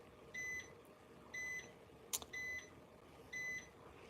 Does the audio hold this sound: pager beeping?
yes